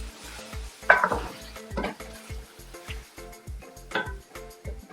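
Tomatoes go into a hot pot of chicken and capsicum for an aloo shimla mirch curry, a steady sizzle broken by rhythmic clinks and scrapes of a spoon stirring against the metal pan.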